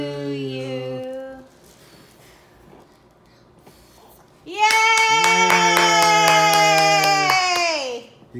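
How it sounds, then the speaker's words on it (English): Family clapping at home for a girl's fourth birthday right after the birthday song, brisk claps heard alongside a child's crying or whining voice and adult speech, loud and close for several seconds. "Clap for her sister, Ethan. Clap for sister."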